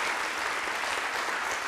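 An audience at a business awards ceremony in Creuse, France applauds steadily, a dense wash of clapping from a crowd with no voices over it.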